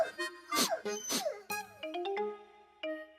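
A small cartoon dog yips, whimpers and makes short playful sounds in a quick, irregular series, close and fairly soft, alongside light chiming musical notes.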